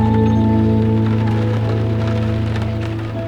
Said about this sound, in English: We've been hit with rain, 45-mile-an-hour wind.